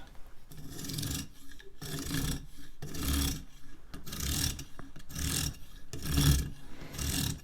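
A file rasps along the teeth of a serrated bread knife clamped in place, in steady rhythmic back-and-forth strokes, about ten of them, close and moderately loud with no talking.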